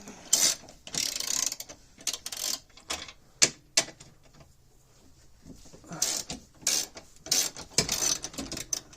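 Suspension bolts are broken loose with a ratchet wrench, producing bursts of rapid clicking ratchet strokes and metallic clunks in several separate runs with brief pauses between them, close and moderately quiet.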